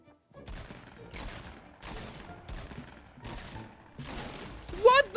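Bursts of gunfire in the Fortnite video game around Loot Lake, several volleys spaced about a second apart, with a sharper, brighter hit near the end.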